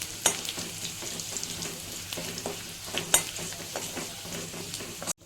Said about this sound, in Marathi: तर आपण हे थोडे फ्राय करून घेऊया.